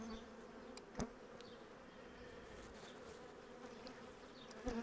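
Honeybees hum at an open hive during queen-rearing work, a soft continuous buzz with a few sharp clicks and knocks from handling the frames, faint and close, with no talking.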